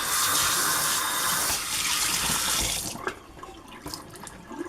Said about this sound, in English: Just let me rinse this off really quick.